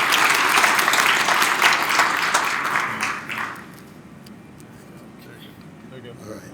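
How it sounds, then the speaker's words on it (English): An indoor audience gives a round of applause for the hosts of an event, a dense sustained clapping that fades out after about three seconds, leaving quiet room sound with a few scattered claps. "give TMC Innovation, the board members, the team here, a round of applause for hosting us here today"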